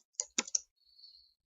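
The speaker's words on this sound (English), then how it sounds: "And then I just type in the name of the droplet," A few quick keystrokes on a computer keyboard, close and fairly quiet, three sharp clicks in a short burst followed by a faint, thin high tone.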